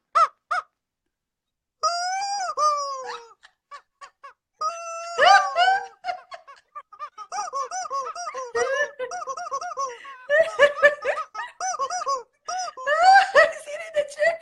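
A squeezed toy chicken gives out a run of high, wailing squeaks and honking squawks, some short, some drawn out, in bursts with pauses between them, with brief talk in places.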